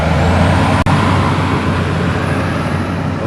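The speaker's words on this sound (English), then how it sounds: "Geez, that bus is loud." A loud bus passing close by on a roadway near Honolulu airport, a heavy broadband engine and road roar that stays strong throughout, with a sharp click near the start.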